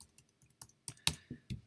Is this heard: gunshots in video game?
no